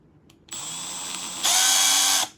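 A Milwaukee M12 Fuel 3/8-inch right angle impact wrench spins freely with a high electric whine that steps up partway through into a louder, faster, brighter speed before cutting off.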